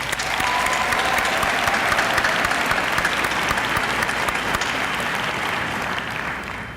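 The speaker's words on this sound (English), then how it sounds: "Please give them a round of applause." A graduation convocation audience for a college of education applauds steadily and loudly in a large hall, a dense wash of clapping from many hands that holds for several seconds before slowly tapering off.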